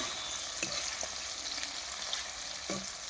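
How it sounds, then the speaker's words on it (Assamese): Paneer frying in a pan gives a continuous soft sizzle, with a few light scraping knocks as it is stirred, quiet and close, without speech. "পনীৰটো মই হিলাই আছোঁ, ভাজি আছোঁ পনীৰটো।"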